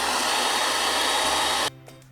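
A hair dryer blows hot air onto plastic being shaped into a homemade bucket seat, a loud, steady rushing whir that cuts off abruptly near the end.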